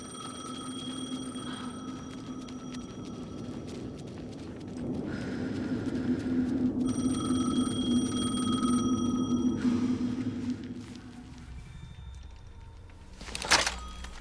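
A phone rings in the video game Alan Wake II, repeated electronic tones over a low rumbling ambience, moderately loud with no voices, ending in a sharp brief clatter.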